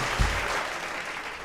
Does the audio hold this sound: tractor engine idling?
no